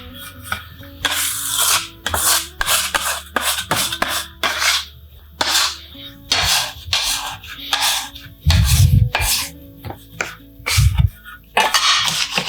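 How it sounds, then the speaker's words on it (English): Hands mix and knead pastry dough for spinach and feta bread, dusting it with flour, making repeated close rubbing, scraping and pressing sounds in an irregular rhythm, with a few dull thumps against the work surface and no talking. "bring it together very gently and add a little more flour, just to dust it with some flour and mix it together"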